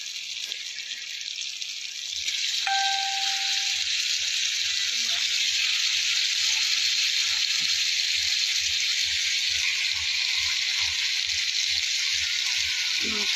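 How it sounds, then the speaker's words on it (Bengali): Masala and tomato frying in a pan, a steady close hiss of sizzling oil that runs unbroken throughout, with a faint brief tone near the start and soft low ticking underneath. "ভাজা ভাজা হচ্ছে, টমেটো দিয়ে দিলাম।"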